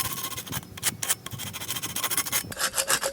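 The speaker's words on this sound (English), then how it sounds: "So I'll sand with my super coarse, like" A keg-style gas tank for a motorized bike being sanded with coarse 40 grit sandpaper, making a close, rough, rhythmic rasping of quick back-and-forth strokes with no talking.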